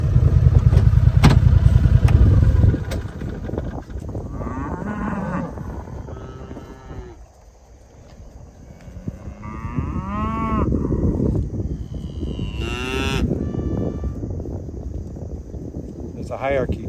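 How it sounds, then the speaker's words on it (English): Cattle on a farm moo repeatedly, several drawn-out calls from cows and calves at varying distances, over a low rumble at the start and steady outdoor background noise. "they communicate by mooing"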